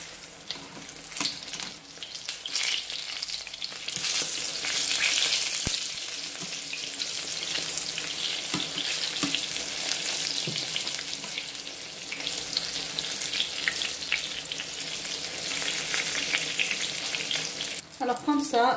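Steady crackling sizzle of eggplant pieces frying in hot oil, continuous and fairly close, with occasional clinks and a brief water splash near the end.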